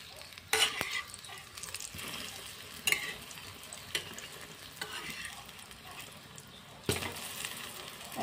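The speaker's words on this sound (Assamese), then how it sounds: "আৰু মচমচি হৈছে শুনা পাইছে শব্দটো" Brinjal slices crackle and sizzle softly in a frying pan, with a few sharp clinks and scrapes as they are turned, close and fairly quiet.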